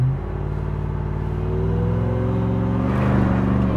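A Ram TRX 4WD truck's engine revs hard for a burnout, a loud, steady deep roar with rising harmonics that swells louder near the end.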